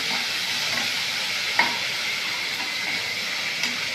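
Onion paste fries in a pan for a vadi curry, a steady close hiss and sizzle throughout with a couple of faint scraping stirs.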